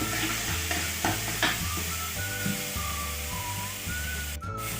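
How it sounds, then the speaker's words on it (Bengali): Ginger, garlic and onion paste hitting hot oil in a pan, a loud steady sizzle and fry with scraping stirs of a utensil throughout, close up with no voices. "তো তেল গরম হয়ে গেছে, আমি এবার দিয়ে দিচ্ছি এখানে 1 টেবিল স্পুন আদা রসুন পেঁয়াজ"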